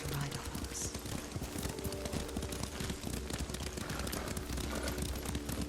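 Horse hooves in the Ghost of Tsushima video game, a steady galloping clip-clop under continuous ambient game sound, moderately loud and rhythmic throughout.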